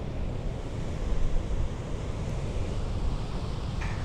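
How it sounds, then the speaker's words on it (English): Large ocean waves break on a beach in Brazil, a broad continuous roar of surf mixed with wind buffeting the microphone, steady and loud with no speech. "I'm gonna have to say these are the biggest waves I've seen so far here. There's some huge waves."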